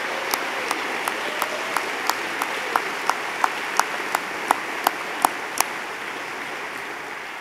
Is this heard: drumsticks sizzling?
no